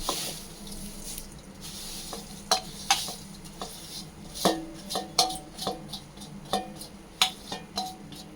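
Dried drumstick leaves for murungai keerai podi are stirred in a pan over heat, giving repeated scraping and clicking strokes at an uneven pace over a faint background hiss, close and fairly clear with no talking.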